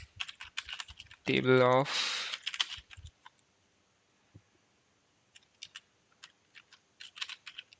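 Fast clatter of a computer keyboard as someone types Java code, a dense burst of keystrokes followed by scattered quieter taps, with brief spoken words over it.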